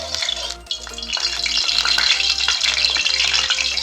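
Oil sizzles and crackles in a kadai heating up for an egg curry, a close, busy frying hiss over a low pulsing hum, with no talk.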